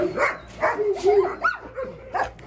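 Two old purebred Kangal dogs, a male and a female, give a run of short, close whining yelps and whimpers with light barks, repeating rhythmically.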